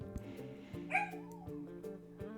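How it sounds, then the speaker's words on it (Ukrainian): A dog in a Sims 4 game barks, yips and whimpers softly in the background, a few short calls over steady layered game music. "У мене пес гавкає на фоні, бо я його не впустила"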